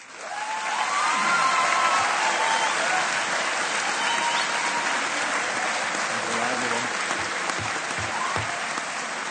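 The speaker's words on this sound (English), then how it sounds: "Please join us in applauding the achievement of each student as they become graduates of the University of Wolverhampton." A large audience at a University of Wolverhampton graduation ceremony applauds in a loud, sustained wash of clapping with faint cheers, holding steady throughout with some voices underneath.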